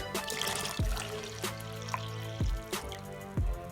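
Milk pours into a well in flour for pizza dough, making a liquid trickle with several soft drips and splashes close by. No one talks.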